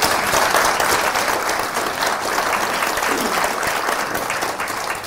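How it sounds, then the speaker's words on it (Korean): A crowd at a Korean book-concert claps in encouragement, a full, loud burst of many hands that holds steady before easing slightly toward the close. "격려의 박수 좀 보내주세요."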